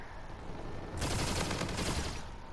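The X-Eon weapon in Call of Duty Infinite Warfare fires one sustained, loud, broadband blast lasting about a second, rising suddenly out of a steady game-ambience hiss.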